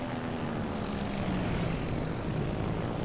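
Steady, loud propeller drone of a fighter plane launched from the battleship Yamato in World of Warships Legends, a continuous engine roar with no talking.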